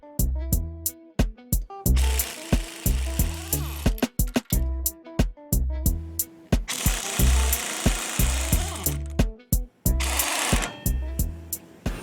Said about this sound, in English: My impact drive is wedged against the frame and the socket is wedged against the bolt.